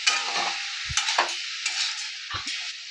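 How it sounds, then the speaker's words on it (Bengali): Minced chicken with spices being stirred in a hot pan, a steady sizzle with several scraping strokes and spatula knocks against the metal, close and alone. "একটু নেড়ে চেড়ে"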